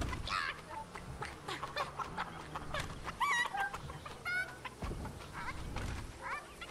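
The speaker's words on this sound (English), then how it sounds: "A chicken." Chicken clucking in the video game Fortnite, a few short squawking calls over a busy backdrop of game sounds, moderately loud and close.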